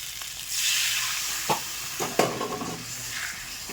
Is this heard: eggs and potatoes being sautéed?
yes